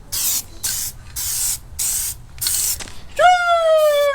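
A coat of Plasti Dip is sprayed onto a RAM 1500 EcoDiesel in five short, loud hissing bursts from an aerosol can, followed by a sharp rising squeal at the end.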